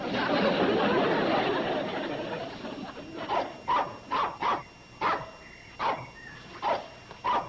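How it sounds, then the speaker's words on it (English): A dog barks repeatedly at a farm-country hotel, a series of sharp, evenly spaced barks following a rustling, noisy stretch, moderately near and loud. "Could you keep dog quiet?"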